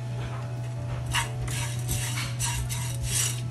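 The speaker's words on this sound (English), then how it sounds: "Now I'm going to add this kasuri methi and also dry roast it on slow flame." Dried kasuri methi is dry roasted and stirred in a pan over a low flame, a utensil scraping and clinking against the metal in repeated strokes over a steady low hum.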